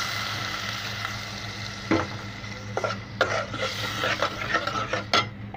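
Water hits a hot pan of shrimp fried with garlic paste and onion, giving a loud, continuous sizzle broken by a few sharp scraping stirs.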